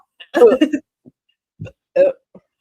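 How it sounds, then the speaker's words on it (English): A loud, abrupt burp-like gag bursts out near the start, followed by a few shorter, softer throaty sounds and brief pauses, close and unaccompanied by talk. "Made me like burp gag. That was a loud gag."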